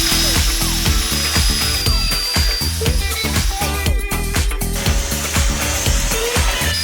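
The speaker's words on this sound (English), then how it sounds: "Next, I drill the holes for the drop-down hinges." A power drill runs in repeated short bursts, drilling hinge holes in a wood panel with a whining, grinding buzz, loud and close, with brief pauses between holes.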